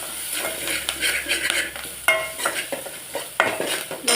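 Onion and a handful of curry leaves fry in a pan while a metal spoon stirs them, giving a busy crackling sizzle with repeated clanks and scrapes against the pan, close and fairly loud, without speech.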